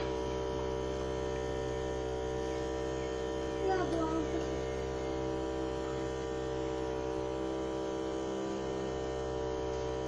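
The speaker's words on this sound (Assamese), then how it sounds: "এয়া মোৰ ফুল ইনকুবেটৰ।" Full home egg incubator machine running, a steady low electrical hum with constant tones, quiet and unchanging for the whole stretch, with a faint brief voice-like sound midway.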